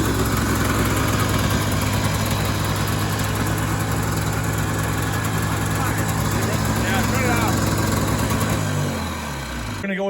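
An old Yamaha snowmobile engine idles loudly and close, a rough steady two-stroke drone running throughout before it drops and winds down in the final second.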